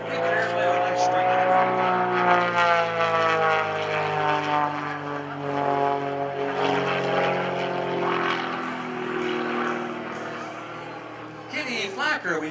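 An aerobatic propeller airplane performs at the 2013 New Garden Airshow, its engine droning and shifting pitch as it maneuvers, loud and sustained, with an announcer's voice over it.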